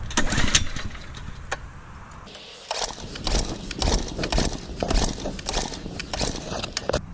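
A Honda engine on a Turf Teq power rake is cranked in a series of uneven, sputtering bursts close by, struggling without settling into a steady idle.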